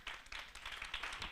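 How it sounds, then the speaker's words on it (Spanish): Church congregation applauding during a celebration service, a brief steady patter of many hands clapping, moderately faint and continuous without pauses. "Aplaudan al Señor."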